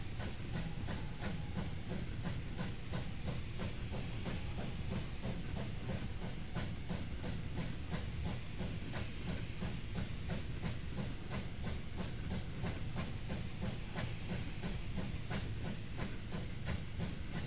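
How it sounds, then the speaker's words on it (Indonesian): A coal train in the video game Wobbly Life chugs steadily along with hissing steam and a rhythmic clatter, continuous and fairly loud throughout. "Kereta batu bara ini"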